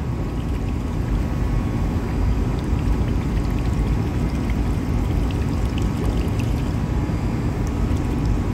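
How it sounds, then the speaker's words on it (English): A lidded container holding an oil sample for a TBN test is shaken vigorously. It makes a loud, continuous sloshing rattle that runs evenly throughout, with no talking. "So I will shake vigorously until the graph has been finished."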